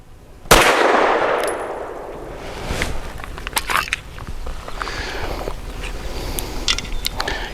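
A loud, sharp Steyr M9-A2 pistol shot at target shooting, ringing out and decaying, followed by fainter metallic clinks and handling noises.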